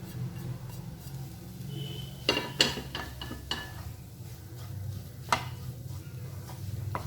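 A ladle stirs and mashes egg masala in a pan with chopped curry leaves and coriander, making a quiet bed of low sizzling and scattered scraping knocks of metal against the pan.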